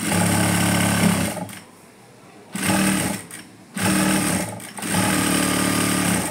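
A sewing machine stitches blouse pieces in three loud bursts of steady whirring, broken by short pauses where the motor stops.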